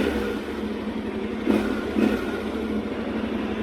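Yamaha Tenere 700 adventure motorcycle pulling away in gear, a steady close engine drone with low rhythmic pulsing and two brief louder surges partway through, no voices.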